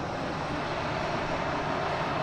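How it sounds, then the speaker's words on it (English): A JetBlue jet airliner bound for Milan, flight 331, at Boston Logan International Airport, a loud, steady engine roar spread across a wide range, sustained throughout with no speech. "Oh, we just got that JetBlue heading to Milan"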